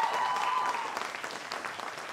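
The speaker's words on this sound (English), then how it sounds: "Let's give it one more round of applause to the students." Audience at a college music performance applauding the students at the end of a show, a steady burst of clapping that slowly thins out over a couple of seconds.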